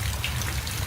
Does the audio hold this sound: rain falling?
yes